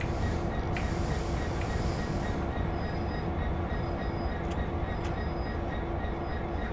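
A diesel-electric train in Train Sim World rolls along with a continuous heavy rumble and wheel noise, steady and close, with a few faint high clicks and squeals.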